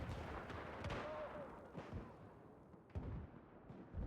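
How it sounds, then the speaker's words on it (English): An in-game mortar blast on a Battlefield 4 multiplayer battlefield: a dull, booming impact amid steady rumbling combat noise, with a few more sharp thuds following through the din. "Killed by a mortar."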